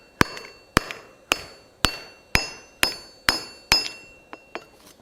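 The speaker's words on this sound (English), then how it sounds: "using a domed face hammer." A domed face hammer strikes hot steel sitting in a Holland anvil swage block, giving eight sharp ringing metallic blows at a steady rhythm, each decaying quickly, followed by a few lighter taps.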